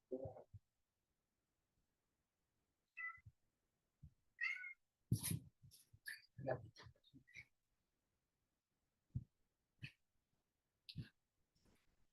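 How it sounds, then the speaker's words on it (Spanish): A thirsty kitten gives a few short, faint meows spaced apart in a quiet room, with some soft knocks and rustling between them. "la gatita tiene sed y se quiere tomar mi agua"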